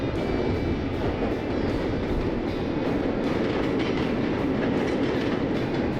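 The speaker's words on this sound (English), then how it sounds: "as usual, I start talking and the train goes by" A train rolls past a Florida fishing spot in a steady, loud, close rumble with rhythmic clickety-clack from the wheels, continuous throughout with no talking.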